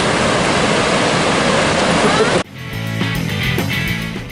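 Loud, steady roar of rushing water from a large glacial waterfall in Iceland fills the first half, then cuts to quieter ambience with faint voices and background sounds.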